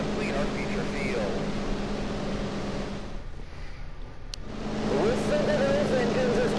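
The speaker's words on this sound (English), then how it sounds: "Listen to those engines as we get ready to go" Race car engines idle and rumble together on the starting grid of a dirt-track sprint car race in Tony Stewart's All-American Racing video game, a steady loud drone that dips briefly mid-clip before swelling back as revving picks up.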